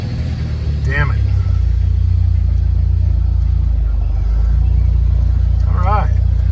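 A car engine idles after an oil change, producing a steady low rumbling drone close by throughout, while someone speaks briefly over it near the start and end.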